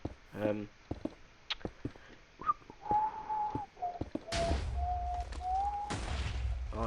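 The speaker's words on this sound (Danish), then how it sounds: "Jeg skal nok lade være med fløjt. Det lyder sikkert hæsligt til." Someone whistles a wavering tune over a few seconds during a Bedwars gaming session, with scattered clicks and bursts of noise around it and brief talk at the start.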